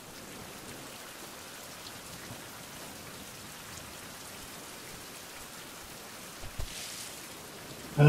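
Steady rain hisses on the ground in a survival game setting, a soft, even wash of drops lasting throughout with a few faint bumps near the end and no talking.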